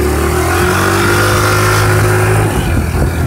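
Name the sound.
vehicle engine while driving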